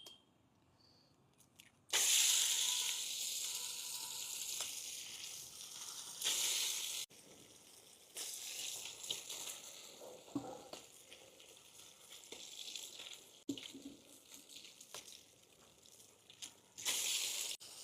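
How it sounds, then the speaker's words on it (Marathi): Beaten eggs fry in hot oil in a pan, producing a steady hiss and sizzle that swells loudly in bursts and then settles, with occasional stirring scrapes. "आता आपण याच्यामध्ये अंडे फ्राय करून घेऊ।"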